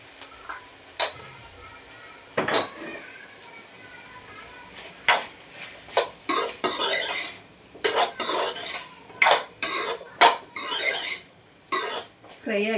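Masala being stirred and fried in a pan while cooking ridge gourd curry, heard as a series of sharp metallic spoon scrapes and clinks against the pan, irregular and close, with no talking.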